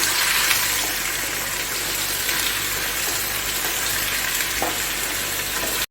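Spiced achari potatoes frying and being stirred in a pan, a steady loud sizzle with faint scraping of the stirring throughout, close up and without talk.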